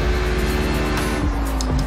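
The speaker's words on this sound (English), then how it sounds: "Oh, this car sounds very different to this headset." A race car engine in the iRacing simulator, heard during a 12-hour endurance race at Oulton Park, drones loud and continuous with shifting pitch as the car accelerates, and no other sounds intrude.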